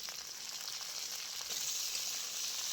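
Potato chunks and drumstick pieces fry in mustard oil, giving a steady, close, bright sizzle with no breaks and no voices.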